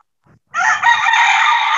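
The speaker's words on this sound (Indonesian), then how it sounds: "Dengan suara ayam, Pak." A rooster crows once, loud and close, a long sustained call that follows a brief faint noise, with no voices over it.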